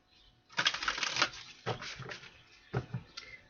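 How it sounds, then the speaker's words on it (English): Tarot cards being shuffled by hand give soft, quiet bursts of crisp riffling and flicking in a few short clusters, with no voices. "One more shuffle here."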